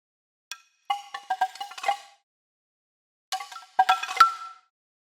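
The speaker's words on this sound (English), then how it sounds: "something that's more versatile are the bamboo chimes single hits." Hollow wooden clacks of bamboo chimes knock together in two short clusters of rattling hits separated by a pause, close and dry.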